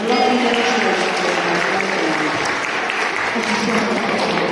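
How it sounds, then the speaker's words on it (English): Audience applauding at a sea lion show in a safari park's sea lion cove, a dense, steady clapping that carries loud and even for several seconds with no letup, a murmur of voices mixed into the crowd noise. "do give him a big round of applause"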